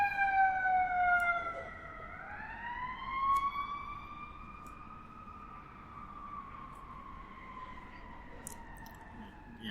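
A loud wailing ambulance siren sweeps up and down as it passes, then settles into a steadier, fading wail.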